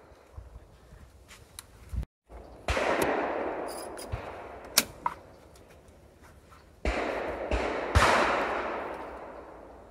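Shotgun blasts at clay targets on a range, three or four sharp, loud reports spread across the stretch with ringing decay and open outdoor ambience between shots.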